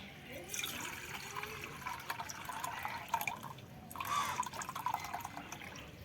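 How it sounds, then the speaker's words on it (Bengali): Water poured from a bowl into dry rice flour, a steady liquid trickle and splash running for several seconds with brief louder surges near the middle and end. "ছ বাটি জল দিলাম"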